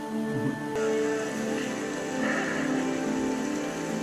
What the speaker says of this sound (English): It'd be so bad if it was one of those rains that goes on for like 5 seconds and stops.